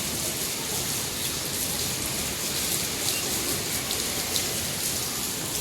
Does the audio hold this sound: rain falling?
yes